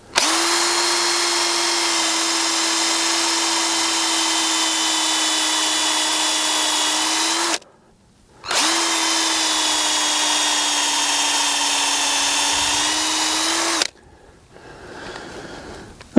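Power drill boring a tap hole at an angle into a maple tree for syrup: a loud, steady whine running for about seven seconds, a short pause, then a second equally long run before it stops, with no talking.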